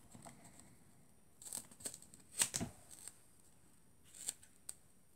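Scissors snipping a small piece of paper from a roll for a handmade double-pocket card, a few quiet close cuts and light paper rustles spread irregularly across a soft room background.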